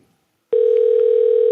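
A single steady electronic tone from a telephone starts suddenly about a third of the way in and holds loud and unbroken to the end, ringing during a live morning TV show broadcast from Huntsville.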